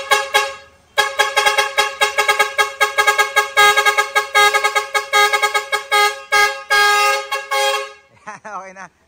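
Car horn driven by an aftermarket horn module, paired with an LED light bar, blasting a loud, rapid, rhythmic string of tooting notes that ends in a short warbling tail.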